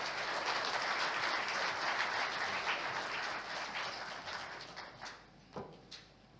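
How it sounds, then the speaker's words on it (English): Dense applause from a large audience at a conference opening session fills the space, holding steady and then tapering toward the end. "Won't you please welcome with a warm round of applause, Mr. Solomon Kano."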